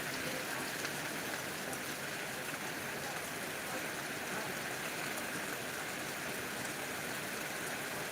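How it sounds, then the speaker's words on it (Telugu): Heavy rain falling steadily in Devaruppula, Telangana, a constant rushing hiss at moderate distance with no talking. "ఫుల్ వర్షం ఇంకా పెద్ద వర్షం"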